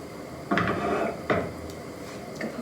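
Knife cutting through an apple and cheese khachapuri on a board, two distinct crunching cuts with sharp onsets about a second apart, then a faint scrape, close and fairly quiet.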